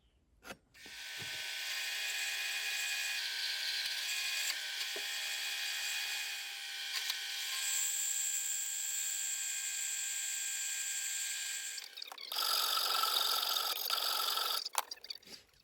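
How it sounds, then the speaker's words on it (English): A bandsaw cuts a motorcycle part held at an angle on a 1922 Ner-A-Car restoration: a steady high whining buzz of blade through metal runs for about eleven seconds, then a brief harsher grinding burst before stopping. "what you saw there is some very sketchy bandsaw work"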